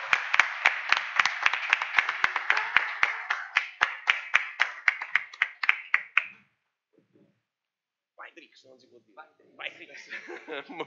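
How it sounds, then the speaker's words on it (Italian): Audience at a festival's opening conference claps in a lively burst of applause for about six seconds, then it stops abruptly, followed by silence and faint sounds. "voglio un forte applauso per tutti voi"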